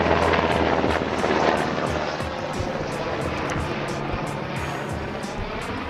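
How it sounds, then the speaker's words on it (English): A helicopter flying by gives a loud, rough rotor roar with rapid chopping beats that stays strong before easing slightly as it passes, with no talk over it. "Sorry, helicopter was flying by"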